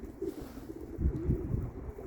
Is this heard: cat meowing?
no